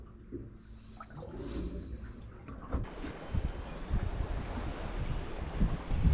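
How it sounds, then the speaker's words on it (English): Wind rushes over the microphone aboard a small swing-keel sailboat on the water, a broad steady roar that builds in strength, with faint splashing beneath it and no voices. "The wind's moved a little bit more south right now, but it's picked up speed a little bit"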